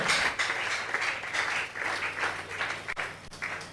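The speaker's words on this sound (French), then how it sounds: "Acclamez très fort." Loud, dense applause from a church congregation, with rapid overlapping hand claps that surge and dip in waves for several seconds.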